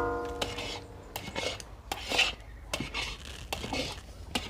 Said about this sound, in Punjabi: ਆਪਾਂ ਇਹਦੇ ਵਿੱਚ ਲਗਾਤਾਰ ਜਿਹੜਾ ਖੁਰਚਣਾ ਜਾਂ ਕੜਛੀ ਫੇਰਦੇ ਰਹਿਣਾ ਹੈ